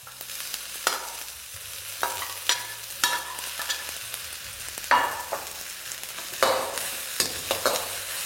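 Onions frying in a pan over a high flame with a soft sizzle, stirred in repeated scraping strokes that land every second or so, close and clear with no talking.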